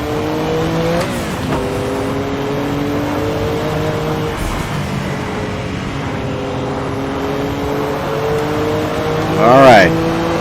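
A Porsche 962C engine in a sim racing game holds a steady, droning note with gentle pitch shifts as the car is pushed harder, then rises in a brief rev near the end.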